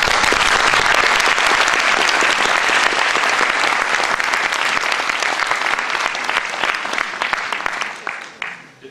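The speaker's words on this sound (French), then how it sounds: "Donc je pense qu'on peut applaudir tout ça." An audience at an AFC family association gathering in Arras applauds in a long, dense, sustained burst of clapping that holds steady for several seconds, then thins and fades out near the end.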